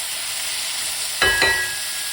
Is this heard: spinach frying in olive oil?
yes